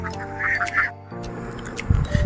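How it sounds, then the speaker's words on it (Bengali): A flock of farmed ducks on a river, quacking close by in short overlapping bursts, briefly over a low background rumble. "কত হাঁস দেখা যায়"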